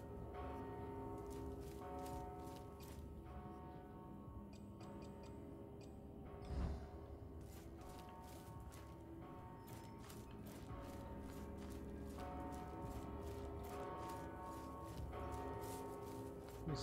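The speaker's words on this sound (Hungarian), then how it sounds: "Köszönöm, hogy harangoznak." Church bells ringing in the video game Mortal Shell, repeated resonant tolls spaced through the stretch over a constant mechanical, gear-like in-game background, with no talk.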